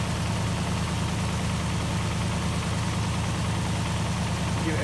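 A 1968 Rover P5b V8 idles steadily on choke just after its first start after winter, an even, continuous mid-pitched engine drone with a faint rhythmic tick, close and unbroken.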